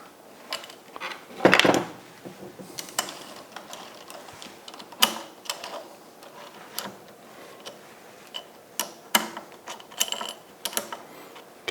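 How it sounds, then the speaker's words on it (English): Small metal screw being fitted into a Multifix tool post on an Emco Maximat 7 lathe, a scatter of close clicks, ratcheting ticks and light metallic taps with a sharper clatter early on, no talking. "I can put the screw in here."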